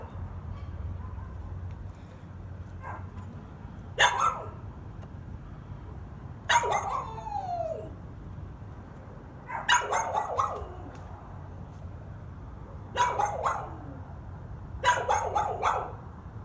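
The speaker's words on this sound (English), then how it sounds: "And I'm listening to this dog just bark and bark and bark." A dog barks in repeated bursts, each a short cluster of sharp barks with a whimpering yip between, spaced several seconds apart against a low steady background hum; no one speaks.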